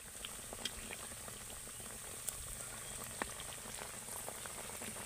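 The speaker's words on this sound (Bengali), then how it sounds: "এবার আমি একে একে তেলের মধ্যে এগুলোকে ছেড়ে দেব।" Potato and flour snacks bubble and sizzle steadily in hot oil, a soft, continuous frying hiss with scattered small pops and crackles, no speech.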